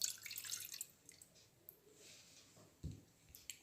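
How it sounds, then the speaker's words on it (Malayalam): Half a cup of warm milk is poured into a bowl for pizza dough: a faint, soft trickle near the start, then a quiet bump of the vessel later in an otherwise hushed kitchen. "അരക്കപ്പ് പാല് ചെറു ചൂടോടെ പാത്രത്തിലേക്ക് ഒഴിക്കുക."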